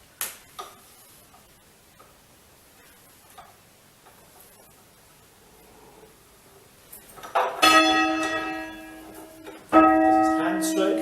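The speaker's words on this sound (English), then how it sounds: "So at hand stroke, you'll hear a clear note. At backstroke, you'll hear a muffled note." A church bell at St Nicholas, Thames Ditton, is rung by hand after a quiet stretch of faint knocks and shuffling, with a clear ringing hand-stroke strike followed by a second blow.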